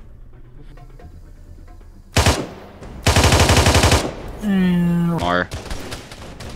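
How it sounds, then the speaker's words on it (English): Rapid bursts of automatic gunfire from the Arma 3 video game with a Halo mod, loud and close: a short volley, then a longer sustained burst, followed by a tonal whine and a brief word spoken. "Enemy fire!"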